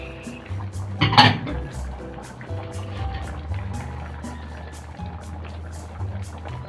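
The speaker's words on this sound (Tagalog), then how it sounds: "Lagyan na natin ng tomato sauce." Tomato sauce is poured into a pot of pork kaldereta, bringing a short liquid splash and a sharp clank early on, then softer scraping and clinking of metal cookware over a low bubbling hum.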